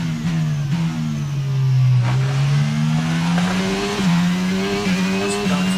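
A Formula One car engine in the F1 22 racing game screams at high revs down a straight, pitch climbing and dipping through gear changes before braking, loud and steady with no talk.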